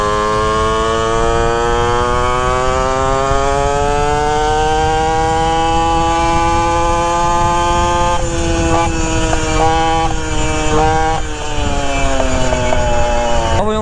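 A 64cc two-stroke stunt moped engine on its first ride buzzes loud and close, its pitch climbing steadily as it revs up, then wavering and stuttering through throttle changes toward the end.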